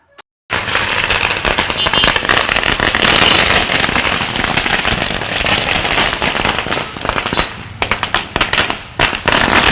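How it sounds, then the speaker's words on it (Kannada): Firecrackers burst at the Honnali Marikamba temple fair in a loud, dense barrage of rapid crackling pops that runs for several seconds before thinning into scattered separate bangs. "ನಾವು ಹೋಗೋ ಟೈಮಲ್ಲೇ ಅಲ್ಲಿ ಪಟಾಕಿ ಅದು ಏನೋ ಜೋರಾಗಿ ಮಾಡ್ತಿದ್ರು"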